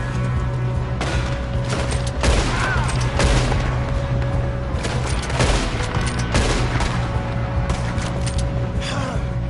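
A video game firefight with bursts of rapid gunfire and sharp shot impacts crackling over a steady low rumble, loud and dense throughout.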